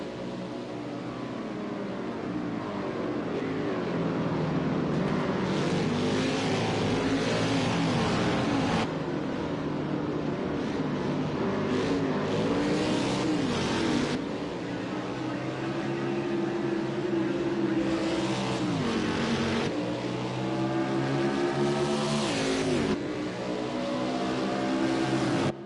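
Race car engines whine and shift pitch as cars race around Indianapolis in a sim racing game, with rising and falling tones from passing and accelerating cars and no speech.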